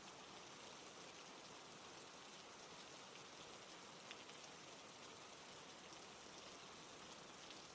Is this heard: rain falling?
yes